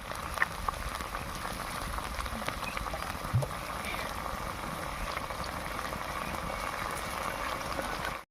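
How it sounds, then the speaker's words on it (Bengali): Chicken manchurian sauce boiling in a pan over very low heat, a close, continuous bubbling and popping that stays steady throughout with one small knock partway, and no one speaking. "সসটা ফুটে গিয়েছে"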